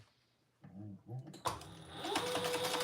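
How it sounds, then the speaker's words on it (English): A domestic sewing machine stitches fabric together for a travel pouch, a couple of short starts followed by a steadier close mechanical whir of the needle running. "now we're going to stitch that together."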